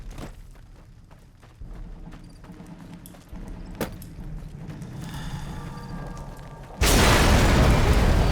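A video game explosion in Fallout: New Vegas: after a low rumbling ambience with a few thuds, a loud, broad boom bursts in near the end and holds.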